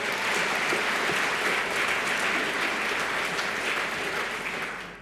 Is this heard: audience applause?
yes